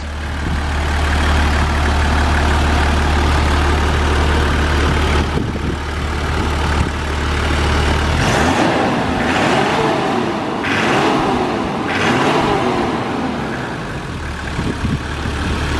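Toyota Land Cruiser HZJ77 with the 1HZ 4.2-litre diesel, idling with a steady low rumble and then revving up in several rising surges, loud and close, with no talking.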